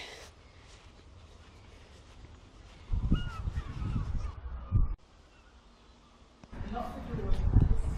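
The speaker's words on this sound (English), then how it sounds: "Seagulls, herring gulls are well still at it." Herring gulls call from a distance in a small graveyard by Arbroath Abbey, Scotland, with a few short cries partly under nearby talking and footsteps.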